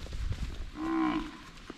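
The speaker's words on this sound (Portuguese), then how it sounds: "Olha aquela vacona ali, que bonita." A single cow on a Brazilian cattle farm lets out one deep, drawn-out moo at close range, lasting under a second amid quiet outdoor background noise.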